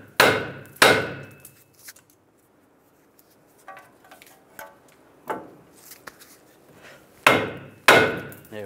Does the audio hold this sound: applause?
no